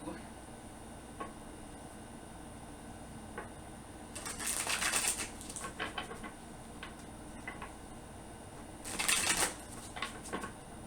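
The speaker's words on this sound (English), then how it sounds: "Get a few shuffles here." Tarot cards are shuffled in two distinct bursts of quick riffling flutter, close and crisp, with small scattered card taps and handling clicks in between against a quiet room.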